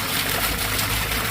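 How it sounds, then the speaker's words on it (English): Hot spring water pours from a fountain out of the mountainside in Hot Springs, Arkansas, a dense, continuous rushing splash heard up close with no voices. "Here's more hot springs, fountains that are, water's coming up out of the mountain"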